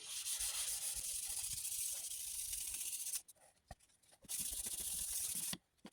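Fine-grit wet sanding on car paint over a rust hole repair: a steady, close rasping hiss of paper on the panel, paused twice briefly, with no talk.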